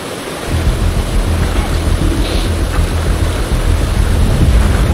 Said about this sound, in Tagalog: Pero grabe yung alon.